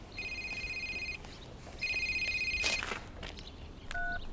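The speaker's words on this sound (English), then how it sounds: "You must start answering your phone, Eric." A telephone rings nearby in two long electronic trills separated by a short pause, then a brief softer tone follows, with a few faint thuds in the background.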